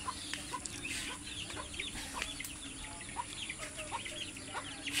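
Chickens cluck and chatter in an outdoor yard, soft repeated calls from several birds over a steady background hiss, fairly distant and faint.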